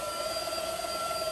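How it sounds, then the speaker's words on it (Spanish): Cordless stick vacuum cleaner with a built-in light running steadily in a kitchen, a constant close whine with a high-pitched motor tone and airy suction hiss, no voices. "la prende y ella tiene una luz y va así, aspirando"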